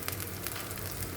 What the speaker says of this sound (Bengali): এটাকে এখন ভালো করে আমি ভেজে নিই